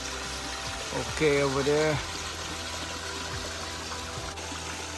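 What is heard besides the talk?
koi pond waterfall trickling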